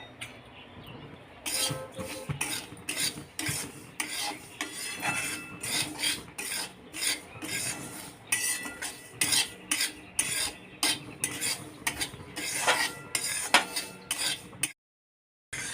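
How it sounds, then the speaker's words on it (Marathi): Sesame and poppy seeds dry roasting in a kadai, a close, rhythmic rasping scrape of a spatula stirring against the metal, repeated strokes throughout before a sudden brief cutoff near the end, with no talk. "तीळ मी कढईमध्ये घालून घेतलेले आहे आणि खसखस हे सोबतच भाजायचं आहे"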